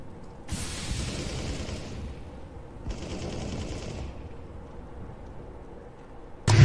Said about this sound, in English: Flash above. Flashbang.